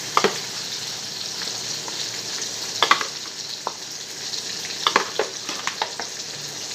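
Black masala spice mix roasting in a pan with a soft continuous sizzle, broken by occasional spoon scrapes and taps against the pan.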